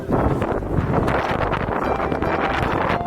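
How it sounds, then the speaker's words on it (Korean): Strong wind batters the microphone at a freshwater fishing spot, giving a steady, loud, rushing roar with gusty buffeting and no speech. "이 바람 소리 들립니까?"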